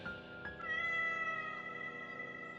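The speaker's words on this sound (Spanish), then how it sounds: "puso atención y de nuevo escuchó aquel maullido." A cat lets out a single drawn-out, tonal meow that rises and then holds for about two seconds, clear and fairly close with nothing else heard.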